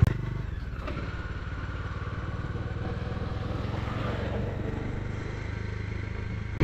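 A motorcycle rides slowly along a winding ghat road on the way to Harihar fort near Nashik, its engine a steady close rumble with light clatter and wind, no talking.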